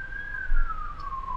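Ambulance siren edited into a CS:GO match, a single falling tone sweeping slowly downward like a passing vehicle, moderately loud over low background noise.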